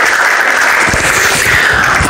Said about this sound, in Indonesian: Kita kasih tepuk tangan dulu pada syukur Ramadan.